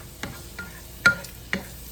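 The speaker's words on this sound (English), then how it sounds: "Keep the sizzling." Egg fried rice in a pan gives a low sizzle, broken by several sharp scraping and tapping strokes of a utensil stirring against the pan, close up and with no talk.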